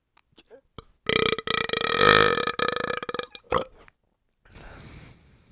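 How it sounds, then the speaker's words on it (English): A long, loud, guttural burp, drawn out as a joke, follows a few short clicks and mouth noises, with brief breathy sounds afterward. "That was supposed to be just a burp gag"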